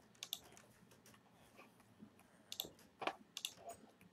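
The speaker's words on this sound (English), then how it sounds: "You might also notice that you can hear my mouse and my keyboard really well." Soft computer keyboard typing and mouse clicks from a Minecraft session come in irregular bursts of sharp, quiet taps close to the microphone, with short pauses between clusters.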